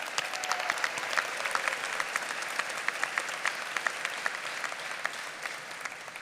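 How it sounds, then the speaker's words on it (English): A graduation audience at Sharpstown International High School gives a round of applause, a fairly distant, soft wash of clapping with a few sharper individual claps standing out throughout. "Let's give them another round of applause."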